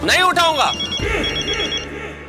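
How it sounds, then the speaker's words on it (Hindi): A telephone rings in a comedy scene, its steady electronic tone running under loud overlapping speech and music for a couple of seconds. "नाम लियो और तुम्हारा फोन बजा।"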